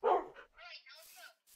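A dog in the video game SuperCraft barks in a few short, faint yips and whimpers, spaced out with brief gaps.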